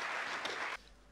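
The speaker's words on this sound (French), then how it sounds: "On peut applaudir Monsieur le secrétaire d'État." A conference audience claps for a French secretary of state at a tech launch event, a dense burst of applause that cuts off abruptly after under a second.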